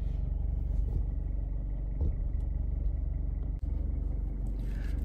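A Mercedes-Benz A-Class A180 CDI diesel with a CVT gearbox runs steadily, a low continuous engine rumble that stays even and close, with one brief dip.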